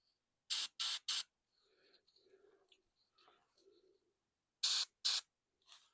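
Several short hissing bursts from an airbrush spraying paint onto Warhammer Champions of Slaanesh miniatures, three quick sprays near the start and two more later, with quiet handling noises between them.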